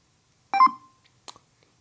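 A buzzer in a Proteus simulation of a Zumo line follower robot gives a short electronic beep signalling calibration, followed by a couple of faint, brief blips in otherwise near silence.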